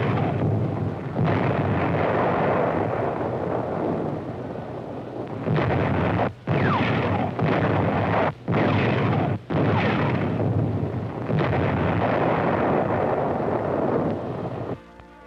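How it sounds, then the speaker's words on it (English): Navy Seabees blast with explosives while building roads in the South Pacific, heavy rumbling detonations rolling one after another, loud and sustained with brief gaps, in an old wartime film recording. "as they go blasting their way through the South Pacific"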